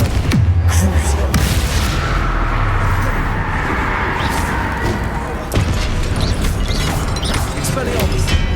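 Loud, dense blasts and crashing booms from a Confringo blasting spell in Hogwarts Legacy, continuous heavy rumble with a sharp new impact midway, with a voice shouting over the fight.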